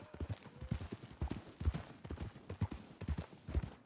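Horse hooves clip-clop in a steady walking rhythm in the video game Red Dead Redemption 2, fairly quiet and close, with no voices over them.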